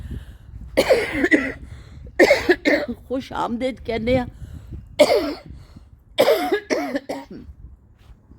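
Someone speaks up close, breaking off for a few harsh coughs and throat clearing between his words.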